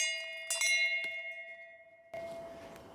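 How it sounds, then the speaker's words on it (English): A metal bell at a disc golf course in Keene, NH, rung to signal the hole is clear: several bright clanging strikes with a long ringing tone, close and loud, then outdoor wind noise. "there is a bell here that you can ring to let the people behind you know that you are clear of the hole"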